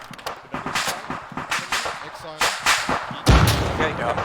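Frag grenade explosion in Arma 3: one sharp, loud blast near the end with a low rumbling tail, following a stretch of gunfire and radio-style talking.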